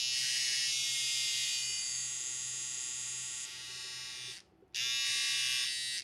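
A brand-new 2018 Gillette Styler 3-in-1 beard trimmer buzzes loudly and steadily up close, cuts out for a split second near the end, then starts humming again.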